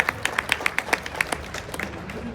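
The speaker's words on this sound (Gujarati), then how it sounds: "પ્રેમપુરી મહારાજને આપણે જોરદાર તાળીઓ ઉઠાવી લો" Audience applause for Prempuri Maharaj at a religious gathering: a run of sharp, evenly spaced claps from a crowd, fairly close, loosening and fading toward the end.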